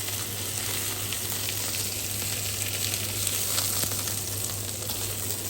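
Mushrooms hit a hot frying pan and sizzle in a steady, dense hiss that holds evenly throughout, close and fairly loud with no voices; this is for chicken fillet in mushroom sauce.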